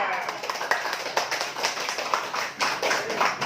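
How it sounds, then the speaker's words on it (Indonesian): An indoor audience at a discussion event breaks into applause, with dense, steady clapping that holds at a moderately loud level throughout. "Tepuk tangan untuk Bapak Ibu semuanya."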